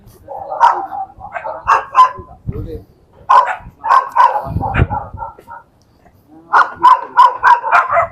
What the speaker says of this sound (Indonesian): Anjingnya itu menggonggong terus.